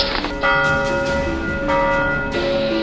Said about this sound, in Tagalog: ang magkapatid na sina Crispin at si Basilio ay nagtutunog ng kampana